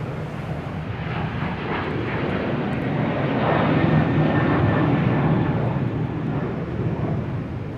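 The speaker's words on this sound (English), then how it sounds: "737-800 heading to Tampa." Boeing 737-800 airliner at an airport, its engines giving a loud, sustained rumbling roar that builds slightly toward the middle and holds steady, heard alone without talk.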